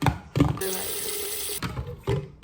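Tap water runs in short bursts into a home water filter, with a steady gush between brief splashy starts and stops, close and fairly loud, with no talking.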